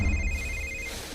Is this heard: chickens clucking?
no